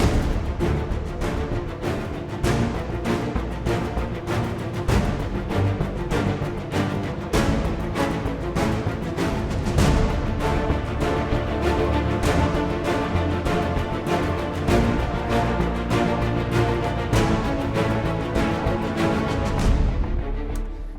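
Dense, driving orchestral film-score percussion in the style of The Dark Knight Rises pounds out rapid, regular hits over a full low ensemble, loud and continuous for about twenty seconds with no voices.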